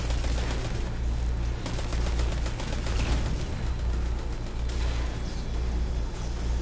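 Dense, continuous gunfire from the video game Destiny, a steady battle din of overlapping shots at constant loudness with no talk over it.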